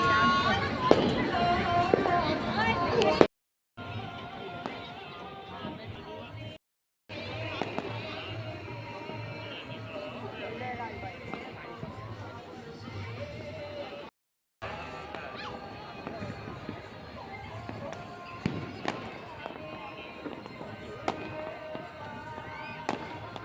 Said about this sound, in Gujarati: ફટાકડા ફોડવાના ચાલુ થઈ ગયા છે જો બધા ફટાકડા ફૂટશે હવે